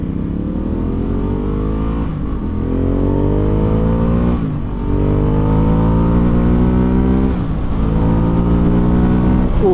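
A Ducati Scrambler Urban Motard motorcycle in race mode revs hard through repeated gear changes, each rising engine whine cutting off briefly before climbing again, loud and close throughout.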